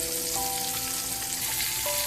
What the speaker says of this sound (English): So you just cook each side until it browns.